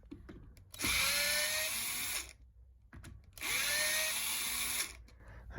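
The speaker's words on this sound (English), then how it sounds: "T20 Torx bit to take that loose." A power driver with a T20 Torx bit loosens a screw on a van armrest, giving two short, loud whirring runs of about a second each up close, separated by a quiet gap.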